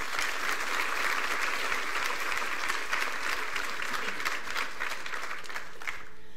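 An audience at a university nursing school white coat ceremony applauds warmly as a speaker comes to the podium, sustained dense clapping filling the hall before fading at the end.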